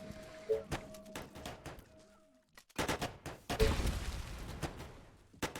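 Rifle fire in the zombie strategy game They are Billions, on the Caustic Lands map: clusters of sharp shots crack in quick succession, break for a short silence, then return as a louder, denser volley that fades out.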